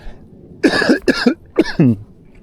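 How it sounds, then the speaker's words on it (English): Four harsh, loud coughs come in two quick pairs, close by, with short pauses between them. "Have to bear with me, I've got a bit of a cough."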